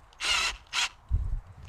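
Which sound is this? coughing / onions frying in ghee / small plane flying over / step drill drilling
step drill drilling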